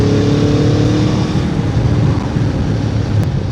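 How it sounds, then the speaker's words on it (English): A 2015 Aprilia Tuono V4 APRC motorcycle, fitted with a quick shifter, accelerates hard through upshifts. Its engine makes a loud, close, continuous roar that stays dense and steady the whole time, with no talk. "you can obviously hear the quick shifter kicking in as we go up"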